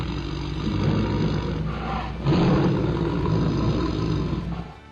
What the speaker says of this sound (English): He issued a low growl to express his gratitude to the guy for helping save his life